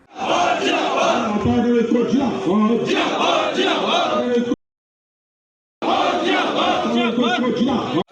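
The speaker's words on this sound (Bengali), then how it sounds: "একাধিক দাবিতে পিএইচি দপ্তরে বিক্ষোভ দেখালো পানীয় জল পাম্প অপারেটর কর্মী ইউনিয়ন কোচবিহার জেলা কমিটি" A protest crowd of drinking-water pump operator union workers at the PHE office in Cooch Behar chants and shouts together in a loud, steady roar that cuts out abruptly for about a second before resuming.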